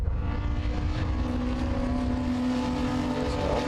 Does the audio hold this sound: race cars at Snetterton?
yes